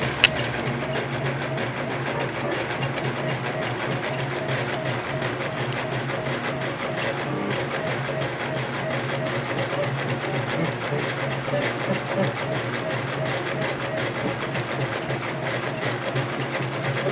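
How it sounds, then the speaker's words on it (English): A homemade embroidery machine built from CNC parts sews short stitches, giving a steady, fast mechanical whir and clatter that runs continuously at even loudness with no talk. "So let's restart the machine and I'll let this run here"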